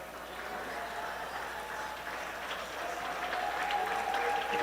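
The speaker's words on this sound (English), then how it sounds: "You can hear some applause for the Hong Kong China players from their supporters as they come back to the huddle." Steady applause from supporters at an Asia Rugby under-18 sevens match in Hong Kong, a continuous crowd clapping that runs throughout at moderate distance with a faint tonal hum.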